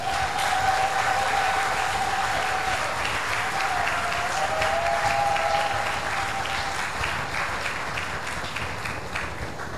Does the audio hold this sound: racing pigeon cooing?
no